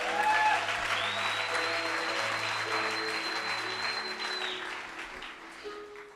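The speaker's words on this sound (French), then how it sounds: "Est-ce qu'on peut acclamer pour la parole?" Congregation applauding at a church service, steady dense clapping sustained throughout and gradually thinning toward the end, with faint voices and a sustained tone beneath.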